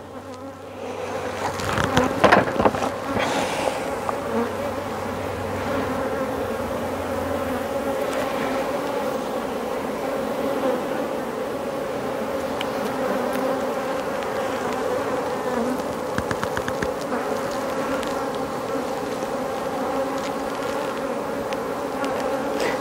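Honeybees drone at an opened beehive during swarm-making, a dense, continuous close buzz with scattered louder passes of bees near the listener and no speech.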